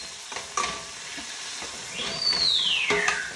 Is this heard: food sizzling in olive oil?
yes